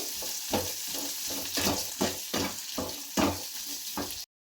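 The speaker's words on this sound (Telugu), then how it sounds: "ఇప్పుడు అది బాగా కలబెట్టుకున్నాం ఇది ఎక్కువ ఫ్రై అవనవసరం లేదు లైట్గా ఫ్రై అయితే సరిపోతుంది" Onion frying lightly in a pan for cauliflower manchurian while being stirred, a continuous sizzle with rhythmic scraping strokes roughly every half second, ending abruptly.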